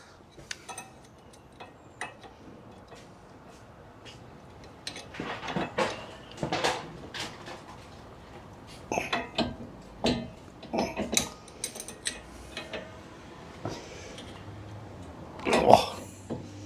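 A crescent wrench works at the lock pin on a Jeep XJ steering assembly, giving irregular metallic clicks, taps and ratcheting scrapes up close, with a few louder clanks and quiet pauses between bursts.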